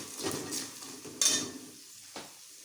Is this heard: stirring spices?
yes